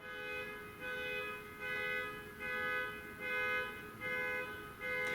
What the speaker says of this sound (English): Sorry for that car alarm.